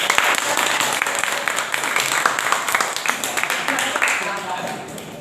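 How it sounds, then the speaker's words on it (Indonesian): A school audience applauds a guest with dense, lively clapping that holds steady throughout, while voices are heard underneath. "Kita sambut dengan tepuk tangan yang meriah."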